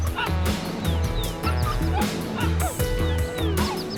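Several young wolf pups yelp, squeal and whine over one another in a busy, high-pitched chorus, close and continuous.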